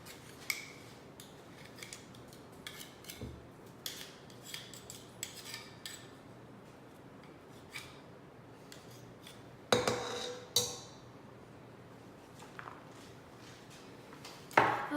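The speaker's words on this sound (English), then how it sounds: "now we just scrape off the dough" A utensil scrapes and clinks against a bowl while peanut butter chocolate chip cookie dough is cleared off it, with scattered close taps and a few sharper metallic knocks.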